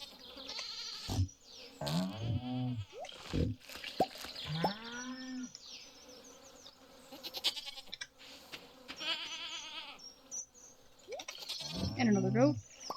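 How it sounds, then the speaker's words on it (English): Goats, pigs and cows on a farm in the video game Stardew Valley, with repeated wavering bleats and lowing calls scattered across the span. Quieter gaps come between the calls, and a person talks now and then. "And a goat."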